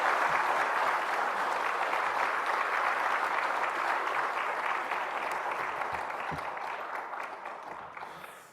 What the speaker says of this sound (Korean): 감사의 박수, 환영의 박수 뜨겁게 드리며 맞이하겠습니다.